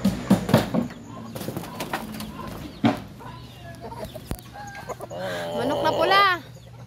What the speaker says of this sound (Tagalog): Ito nga pala yung aming manok na pula.